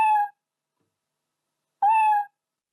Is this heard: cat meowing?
yes